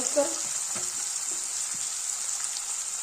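Onion and tomato with a little salt cook down in a pan, giving a faint, even hiss with a few soft clicks of stirring, quiet and close.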